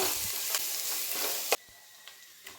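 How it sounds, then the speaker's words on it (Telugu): Green chilies and ginger-garlic paste frying in a pan for bagara rice, a loud close sizzle with spoon scrapes that drops abruptly to a quieter hiss midway, with a few soft clicks after, no voices. "పచ్చిమిర్చి ఇలా వేగిన తర్వాత అల్లం వెల్లుల్లి పేస్ట్ వేసుకొని పచ్చివాసన పోయే వరకు వేయించుకోవాలి"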